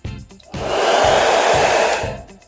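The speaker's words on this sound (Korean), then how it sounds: "자, 보시면 이렇게 드라이기가 있죠." A hair dryer in a motel room switches on, blows with a loud, steady whoosh for about a second and a half, then cuts off, close by with no talk.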